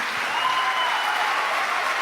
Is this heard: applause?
yes